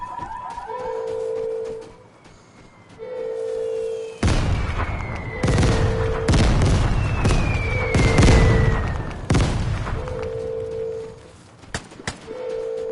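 Grenade blasts in the Outlands shooter game: several loud booms with crackling debris tails stacked over a repeating electronic beep, with a quieter lull before the explosions start.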